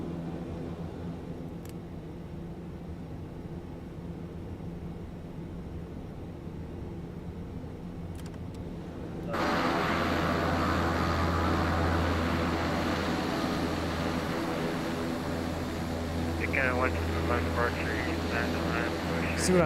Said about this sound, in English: We'll keep the blower on because we're still taxiing in.